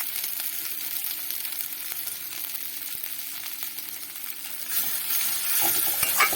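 Mankachu (giant taro) paste frying slowly in a pan gives a steady, close sizzle throughout, with occasional faint clinks of a utensil toward the end.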